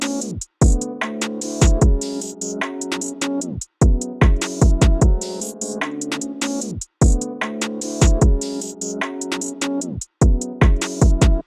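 A UK drill beat loops with skittering hi-hats, sharp snares, a melody and deep sliding 808 bass, looping in repeated bars with brief dropouts between, full and loud with no voices.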